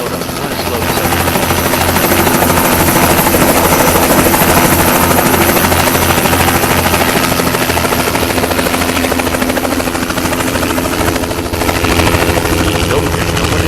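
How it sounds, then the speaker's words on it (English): A helicopter in American Truck Simulator flies close by with a loud, steady rotor drone and buzz that persists throughout, with a pulsing low thump in the first half. "Is there anyone in this helicopter?"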